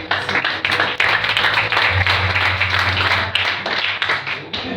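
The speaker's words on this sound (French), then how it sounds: "acclamez pour vous-même" A church congregation claps and applauds in a worship service, a steady wash of many hands that fills the room for a few seconds at moderate loudness, with a low hum underneath.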